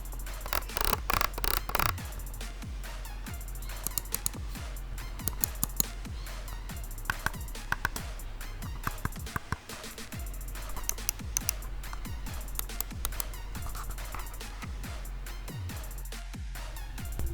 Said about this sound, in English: Here is what all the buttons sound like.